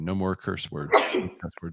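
A single sharp sneeze bursts out in the middle of conversation, close and fairly loud, with people talking over it before and after.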